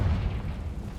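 A Confringo fire spell blast in Hogwarts Legacy, a deep rumbling boom that hits hard at once and rolls on loudly for about a second.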